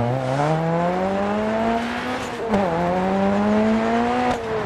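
A Ford Sierra Cosworth rally car engine in DiRT Rally on the Baumholder stage drones loud and close, its pitch climbing steadily through the gears with brief dips at shifts, and faint tire noise underneath.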